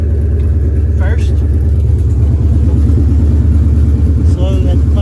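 A Ford Fox Body car's engine idles steadily with a low, continuous rumble as the clutch is slowly let out and the car begins rolling; a voice talks over it, with a brief whistle-like tone near the start.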